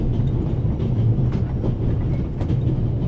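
A train in The Raven video game rolls along the rails with a steady low rumble and faint rhythmic clatter of wheels, a continuous interior ride sound heard up close.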